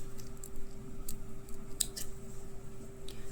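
Scissors snip the excess thread of a handmade bead anklet, with a sharp cut clearly audible against a quiet background.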